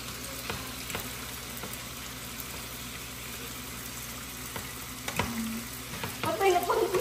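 Food fries in hot cooking oil with a steady, fairly quiet sizzle and crackle, a few stirring clinks, and louder spattering bursts near the end.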